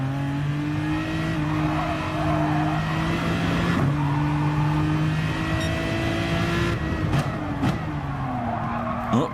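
Race car in the GT Sport video game, mid-race on tyres worn after seven laps: a loud, steady engine drone rises and falls in pitch through gear changes, with sharp bursts of tyre squeal and skidding toward the end.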